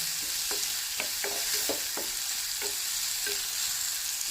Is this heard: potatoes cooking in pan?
yes